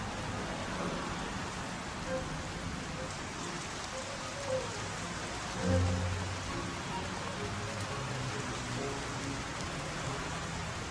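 Steady rain falls outdoors in a dense, even patter with a soft low rumble partway through, continuous and close.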